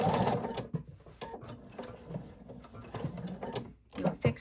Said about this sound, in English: Do a fixed stitch or a back stitch.